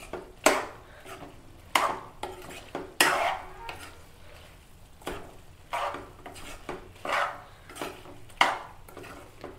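A spoon stirs mutton liver with ginger garlic paste in a pan, making regular scraping, clattering strokes about once a second over a soft background sizzle.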